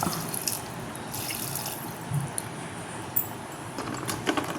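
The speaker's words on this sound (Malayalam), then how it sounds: "കുറച്ച് വെള്ളം ഒഴിച്ചെടുക്കാം ഉള്ളി മുങ്ങുന്ന അളവിലുള്ള വെള്ളം ഒഴിക്കുക" Water runs and splashes steadily into a pan of onions, with a few small metallic clinks and drips scattered through the pour.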